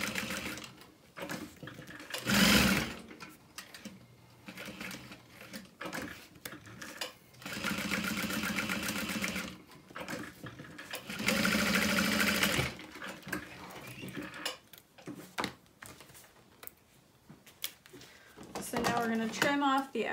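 A sewing machine stitches a quarter-inch seam along the top of a fabric wristlet wallet in several short whirring bursts, close and clear, with a person talking in between runs.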